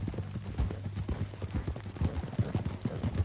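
Horse hooves clip-clop at a steady walking pace in Red Dead Redemption 2, a soft rhythmic series of hoof falls on the road, fairly quiet, with no talking.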